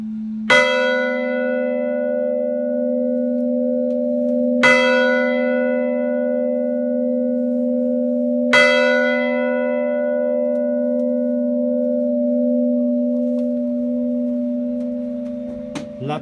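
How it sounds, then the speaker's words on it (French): Church bell number 2 of the Deuxville church struck slowly, four bright clangs about four seconds apart, each ringing out into a long sustained hum, loud and close with no talking. "Deville, cloche 2."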